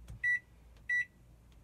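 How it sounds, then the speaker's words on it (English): A microwave oven's keypad gives three identical short electronic beeps, evenly spaced and clear against a quiet kitchen background, with no talking. "I'm going to throw it in the microwave."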